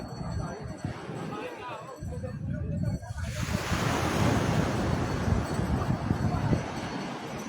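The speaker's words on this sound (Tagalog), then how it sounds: "Medyo malakas yung alon ngayon." Rushing surf and heavy wave wash roar steadily, growing stronger partway through, with wind buffeting the microphone and faint voices underneath.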